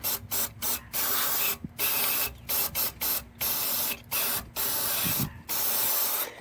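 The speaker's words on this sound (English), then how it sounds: "And then you spray it some more." Cleaner is sprayed into the throttle body of a Ford Mustang in a string of short and longer aerosol hisses separated by brief pauses, loud and close with no talking.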